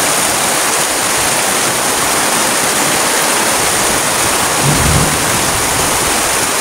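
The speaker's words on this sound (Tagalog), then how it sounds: "Grabing lakas ng ulan." Heavy rain pours down in a dense, unbroken roar of hiss, with a dull low thump near the end.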